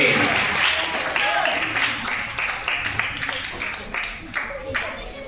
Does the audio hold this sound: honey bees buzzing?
no